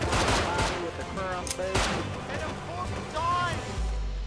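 Gunfire in the survival game Rust, several shots cracking out across the clip amid loud, busy game sound, with excited voices talking over it.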